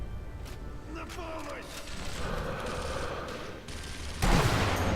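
A sniper rifle shot fires in the video game Sniper Elite V2, a sudden loud broadband crack near the end after a stretch of mechanical clatter and scattered distant gunfire.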